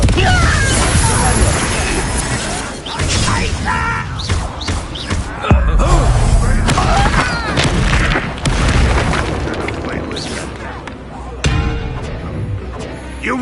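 Booming blasts and crashing impacts from the Confringo blasting spell in the Hogwarts Legacy-style video game, loud repeated explosions mixed with shouting voices and chaotic combat noise.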